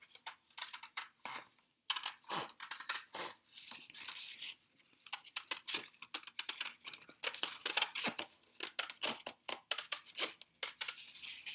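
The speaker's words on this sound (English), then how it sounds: "So the next step will be cutting this out." Scissors snipping out a paper circle for a jellyfish friendship bracelet, a quiet, irregular run of short crisp cuts and rustles with brief pauses, close by and alone.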